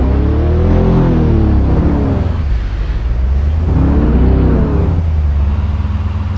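A car engine in American Truck Simulator drones and rises in pitch as it accelerates, easing off midway before revving up again, loud and continuous with no talk.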